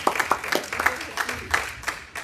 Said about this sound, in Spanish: Los que entienden, den un aplauso al Señor